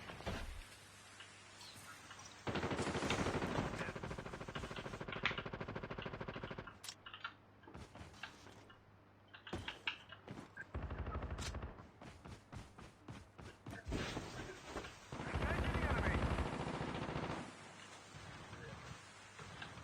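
Gunfire in Call of Duty Mobile: intermittent bursts of automatic fire and louder blasts, some near and some distant, broken by gaps and footstep-like sounds, with players talking over parts of it.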